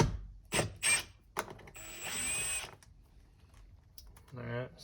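An 8 mm screw is worked out of a Toyota Highlander door panel with a ratchet and extension, giving quiet close clicks and short scraping rattles, then a brief whir, with speech in between.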